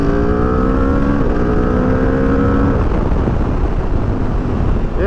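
A 2021 Aprilia RSV4 1100 Factory sport motorcycle accelerates hard, its engine pitch climbing steadily with quick-shifter gear changes cutting in. Loud wind rush and engine roar persist throughout, with no talking.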